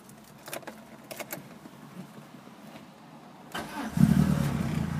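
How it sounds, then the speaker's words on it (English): A red manual petrol Peugeot 106 GTI starts after a few faint clicks and key sounds: the starter cranks briefly and the engine catches first time, settling into a steady, fairly loud idle. "Now we're just getting the car started."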